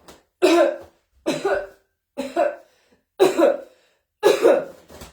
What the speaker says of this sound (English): And the way we're generally coughing, which is like this